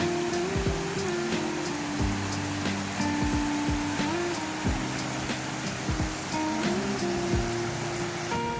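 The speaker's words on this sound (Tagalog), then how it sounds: "ito siya, oh, Glenariff Waterfalls Nature Reserve" Glenariff waterfall in a nature reserve pours in a constant broadband rush, with faint tonal hums running alongside it.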